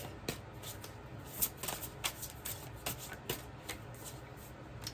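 A deck of tarot cards is shuffled by hand, giving soft, quick riffling bursts and light slaps at an uneven pace, close and quiet, with no talking.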